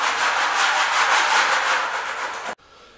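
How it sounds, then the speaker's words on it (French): A saw blade scrapes rhythmically across an interior wall under renovation, a loud, close rasping of quick repeated strokes that stops abruptly near the end, leaving quiet room tone. "je vais gratouiller un peu comme ça"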